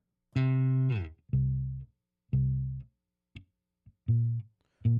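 Low, slow bass notes from a bass loop played at half speed sound one after another with gaps between them, some long and sustained, others short plucks, with no voices.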